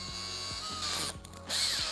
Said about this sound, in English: We can then press while we're drilling